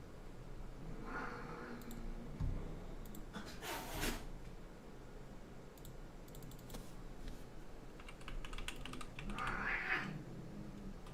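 Typing on a computer keyboard, scattered bursts of light clicks and taps at close range over a low background murmur, uneven in rhythm with brief louder rustles.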